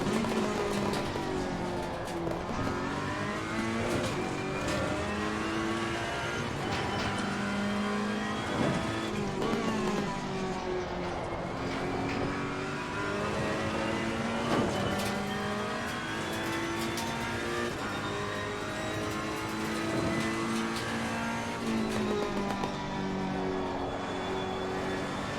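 A race car engine in the racing game Assetto Corsa Competizione howls continuously, revving up and down through gear shifts over about twenty-five seconds, loud and close, with occasional tire noise.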